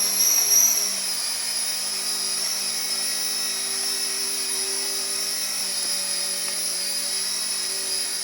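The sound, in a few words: toy remote-control helicopter hovering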